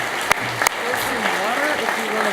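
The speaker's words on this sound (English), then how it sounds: "Let's give all the newsmakers another round of applause" Audience applause at a university faculty newsmakers gala, a steady wash of many hands clapping, with a couple of sharp knocks near the start and a voice talking faintly underneath.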